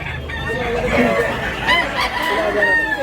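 At a chicken market in Tabunok, Cebu, several roosters crow in overlapping calls while hens cluck nearby, loud and close, with people talking underneath.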